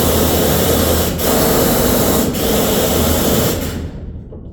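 A mining coffin skip hoist runs with a loud, steady broadband roar of heavy machinery and faint periodic thumps, then drops off abruptly at the end.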